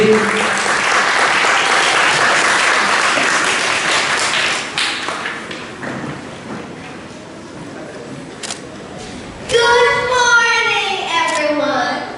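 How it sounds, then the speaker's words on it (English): An audience claps for students walking up to the stage at a school summer celebration: a steady, loud wash of clapping that fades out, then scattered taps before a voice comes in. "let's give them a clap as they come up to stage"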